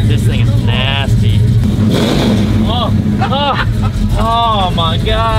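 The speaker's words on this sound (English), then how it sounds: "67 Chevelle, this thing is nasty." An all-original 1967 Chevrolet Chevelle, originally a 396 but now running a 454 V8, revs close by in loud repeated throttle blips and roars, with people talking excitedly over the engine.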